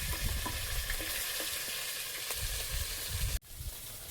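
Fish frying in a pan, a steady close sizzle with faint stirring scrapes, breaking off abruptly near the end before resuming more quietly.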